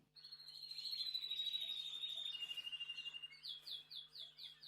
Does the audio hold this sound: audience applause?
no